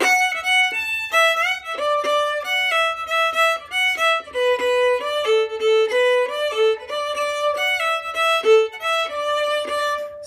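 Solo fiddle plays the B section ending of a tune, a steady run of bright, clearly articulated notes with a lively reel rhythm, close and alone without talk.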